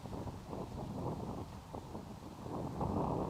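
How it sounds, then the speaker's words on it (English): Steady wind roars across an open disc golf course during a tournament round, a close, rushing buffet on the microphone that swells slightly toward the end, with no talking. "Kind of hear the wind ripping around right now."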